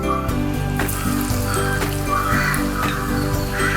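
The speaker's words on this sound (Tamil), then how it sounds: "இதை எடுத்து எண்ணெயில் போட்டுடலாம்." Batter-dipped Pondicherry-style chicken balls (kari bonda) hit hot oil and sizzle steadily, a close, loud crackling fry with scattered sharper pops throughout.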